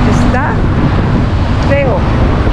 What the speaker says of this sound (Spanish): qué mar tan bravo